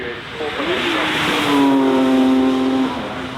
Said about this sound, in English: This is the Porsche Taycan Turbo GT 0-62 in